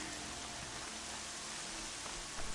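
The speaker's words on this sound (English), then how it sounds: "It do be raining" Steady rain falls without a break, an even hiss of drops on surfaces heard from indoors, fairly faint and uniform with no voices.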